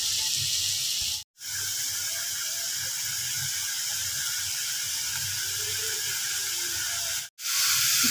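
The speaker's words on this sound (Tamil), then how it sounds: "வெங்காயம் தக்காளி இதெல்லாம் ஃப்ரை ஆகிற வரைக்கும் நம்ம வெயிட் பண்ணலாம்" Chopped onions and tomatoes frying in a pan give a steady broadband hiss and sizzle, loud and close, cut briefly by two sharp dropouts, with no talking.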